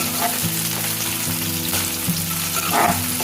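Onions sizzle in hot oil in a pan, a continuous close frying hiss with occasional stirring scrapes, while a steady low hum runs underneath.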